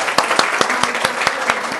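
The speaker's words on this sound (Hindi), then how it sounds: "माँ के लिए जोरदार तालियां हो जाएं।" A short burst of applause from a crowd, with clapping that is steady and moderately loud.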